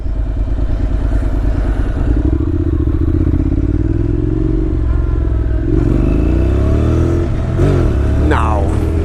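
A 2016 Honda NC700X automatic motorcycle being ridden, its engine droning loudly and steadily under wind rush, with the pitch rising and falling as it revs and shifts near the end.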